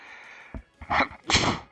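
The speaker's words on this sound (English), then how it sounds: "Oh dear, I've sneezed." A person sneezes close by: a quick intake of breath, then a loud, breathy double burst, alone without talk.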